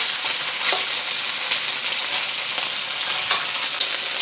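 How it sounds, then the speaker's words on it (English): Beef sizzles steadily as it sears on one side in a hot pan, a dense continuous frying hiss with faint crackles, close and loud with no talking. "we're gonna add our beef. I'm just gonna let it sear on one side before moving it around."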